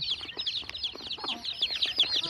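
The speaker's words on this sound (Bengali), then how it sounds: "এই যে এটার ভিতরে মুরগি কিন্তু ডিম পাড়তেছে।" Hens cluck repeatedly in short, busy bursts, close by, while laying eggs in a native chicken coop, with no talking over them.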